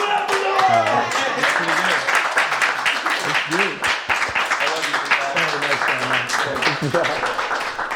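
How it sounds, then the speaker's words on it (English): The audience at a comedy roast of Hasan Piker claps and cheers after a roast set, a lively burst of applause with people talking loudly over it. "One more round of applause for Noel"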